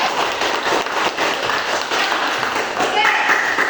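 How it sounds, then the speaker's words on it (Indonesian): A class of students claps hands together in a morning classroom session, a dense burst of applause filling the room with voices mixed in. "Oke, tepuk tangan sekali lagi."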